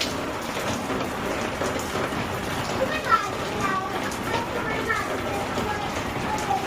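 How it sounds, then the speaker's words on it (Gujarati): Unseasonal rain falls steadily, a dense, even patter on surfaces that continues without a break, with occasional louder drops. "જો બિન સિઝનનો વરસાદ થાય. જો ચાલુ જ છે સવારનો માટે."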